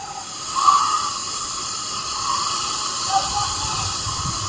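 Kannupulimettu Falls pours in a steady, unbroken rushing hiss, broad and continuous for the whole stretch, with faint voices rising briefly above the roar.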